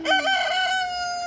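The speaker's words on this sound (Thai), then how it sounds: "มีเสียงไก่ด้วย" A rooster crowing on a farm, one clear nearby cock-a-doodle-doo call that rises and then trails off in a long drawn-out final note.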